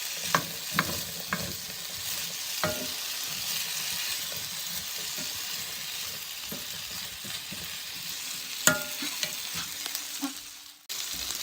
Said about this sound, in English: I'll let that fry up.